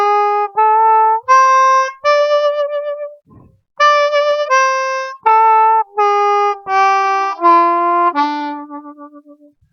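A blues harmonica plays a blues scale in third position starting on the 1 hole draw, a run of about a dozen clear, separate bright reedy notes with short gaps, loud and close, with no talking.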